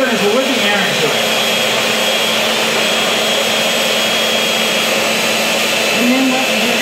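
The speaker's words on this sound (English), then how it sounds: "It's starting to get Frothy. Well, what we're doing is we're whipping air into it." Egg whites being whipped to a froth with an electric mixer: a loud, steady motor whir close by, with a voice briefly talking over it.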